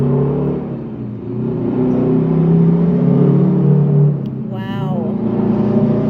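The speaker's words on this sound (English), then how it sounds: "So that was a dump truck pulling a backhoe and a little bulldozer on top of his trailer." Dump truck towing a trailer carrying a backhoe and a small bulldozer, driving past as a loud, steady low engine rumble that swells and fades, with a brief whine near the end.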